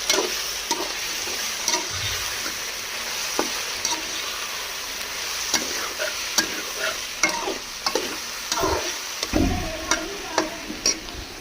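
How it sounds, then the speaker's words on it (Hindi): Spices with salt, black pepper, chili and turmeric stirred and sizzling in a frying pan for desi-style okra, a steady close hiss with scattered scraping ticks from the spoon throughout. "एक से 2 मिनट इस मसाले को मिक्स करेंगे।"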